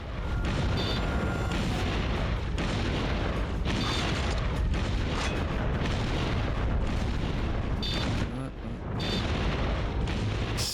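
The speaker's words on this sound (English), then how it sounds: "Sniper cannon." Sniper cannon fire in the Terminator 3: Rise of the Machines video game, heavy booming blasts over dense, loud game noise, with a voice talking over the action.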